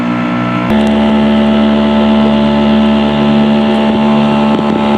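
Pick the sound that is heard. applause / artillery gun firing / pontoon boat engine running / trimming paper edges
pontoon boat engine running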